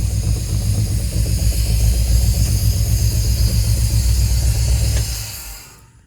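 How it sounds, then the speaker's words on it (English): A 1950 Cadillac engine in an RV build, with ignition timing in need of adjustment, runs with a loud, steady, throbbing rumble close by before dying away in the last second. "it's definitely hitting on all the holes when I rev it up"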